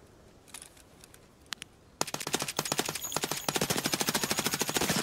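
Automatic gunfire erupts in the video game Escape from Tarkov: a few faint distant shots first, then a loud close sustained burst of rapid rounds.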